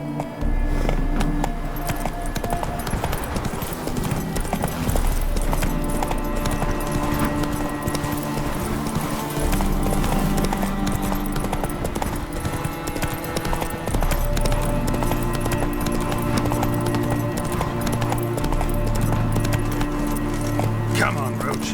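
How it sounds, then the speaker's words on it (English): A horse gallops in The Witcher 3 video game, with fast, continuous rhythmic hoofbeats and light jangling tack under a music score, while voices speak over it. "Run, Roach."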